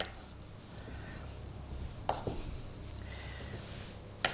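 Knife cutting butter into a saucepan for a strawberry pound cake, heard as soft, scattered scraping and tapping strokes up close, with a couple of sharper clicks of blade against the pan and no talk.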